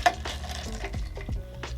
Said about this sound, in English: you can give it a little bit of a stir just to mix the ingredients